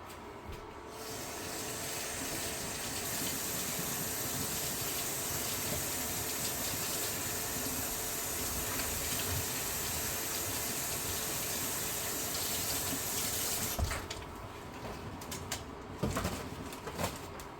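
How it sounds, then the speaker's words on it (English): Celery stalks are rinsed under a running kitchen tap, a steady close stream of water that hisses continuously and then stops near the end, followed by a few small handling knocks. "I want to take and rinse off all of that debris or dirt off of the celery stalk"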